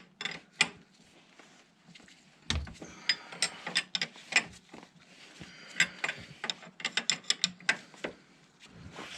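Ratchet wrench loosening a 19 mm nut on a Can-Am Outlander ATV tie rod, a series of quiet, close metallic clicks in irregular bursts, some fast and rattling, others spaced apart.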